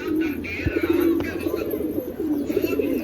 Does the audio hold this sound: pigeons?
yes